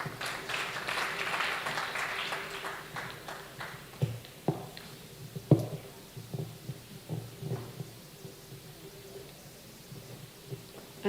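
Audience at a school debate grand final between St. Mary's College Kisubi and Kawempe Muslim SS, clapping in a loud dense burst that thins into scattered claps and a few thumps near the microphone.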